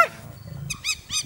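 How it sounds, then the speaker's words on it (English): Hyenas calling at dusk on a Sabi Sands safari, with a low rumbling growl followed by three rising, whooping cries in quick succession, fairly close and clear. "Hyenas calling at dusk have an eerie sound."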